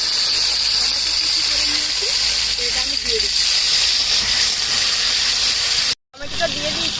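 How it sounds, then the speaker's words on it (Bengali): Whole dry red chillies, bay leaf and five-spice seeds sizzle in hot oil for a cabbage kofta curry, a loud, even hiss with faint spits under a voice, cut by a brief dropout near the end. "তেলটা গরম হয়ে গেছে, এখানে দিয়ে দিচ্ছি গোটা শুকনো লঙ্কা, তেজপাতা ফোড়নে দিয়ে দিচ্ছি 5 ফোড়ন"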